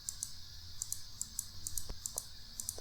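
Computer mouse buttons clicking close by in a quick, uneven series of crisp, light taps over a faint steady hum.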